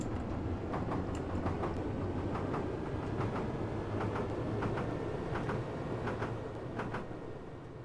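Metro train from the game Metro Simulator rolling through a tunnel, a steady loud rumble with repeated rhythmic wheel clicks over rail joints, continuous and close throughout, fading slightly at the end.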